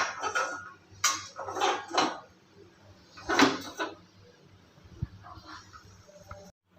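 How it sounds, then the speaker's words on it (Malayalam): A heavy uruli cooking vessel is set down on a stove while mango pickle is being made, giving several loud clanks and scrapes of metal close by, with quieter knocks and a brief thud near the end. "ഈ ഉരുളി അടുപ്പിലേക്ക് വെക്കാം."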